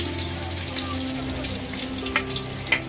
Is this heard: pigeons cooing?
no